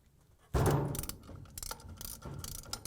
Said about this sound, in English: Rotate the wrench clockwise.